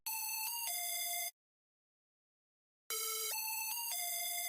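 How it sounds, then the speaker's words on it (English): A Double O synth lead one-shot from a Drakon sample stash plays two bright, buzzy melodic phrases of stepped sustained notes, separated by about a second and a half of silence, loud and alone for a hard trap beat. "The lead is called Double O, and it sounds like this."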